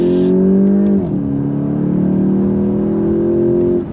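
A 2025 VW GTI Mk8.5 engine pulls hard on throttle, a loud, close harmonic drone that climbs, dips briefly as it shifts, then rises steadily again with no talking over it.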